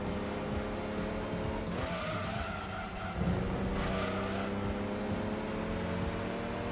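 A race car engine drones loudly in Gran Turismo 2, with tires squealing through a corner and the throttle pulling out, a sustained close engine tone with skidding.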